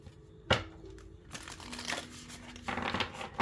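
Tarot and oracle cards are shuffled by hand in an overhand style, making close papery riffles and crinkly slides in several uneven bursts with short pauses between.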